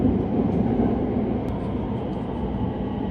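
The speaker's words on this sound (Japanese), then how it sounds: "ここから先、列車は地下へと進み、大阪駅地下ホームへと向かいます。" A rapid commuter train runs into an underground tunnel toward Osaka Station's subterranean platform, a steady low rumble and roar of wheels and tunnel air, continuous and fairly loud.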